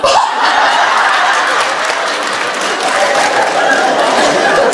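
A concert audience in Kalush applauds: steady, loud, dense clapping from a large crowd fills the hall without pause, with faint murmurs underneath.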